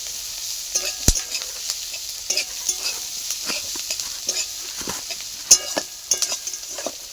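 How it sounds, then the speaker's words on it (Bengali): Onions frying in oil until reddish-brown, stirred steadily: a continuous bright sizzle with frequent scraping and clinking of a spatula against the pan, including a sharp knock near the start and another later, close up and without talking. "লাল লাল করে ভেজে নেব"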